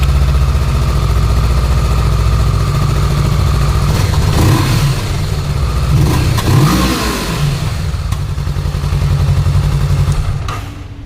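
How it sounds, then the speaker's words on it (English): A loud 2022 Kawasaki Vulcan S 650 motorcycle idles with a deep throbbing exhaust, then revs up and falls back a couple of times before easing down. "Now let's listen to the exhaust note."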